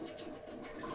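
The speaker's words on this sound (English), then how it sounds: "But first, I'm gonna flush this because that's gross." A toilet flushes with a quiet, continuous rush of water throughout the short moment.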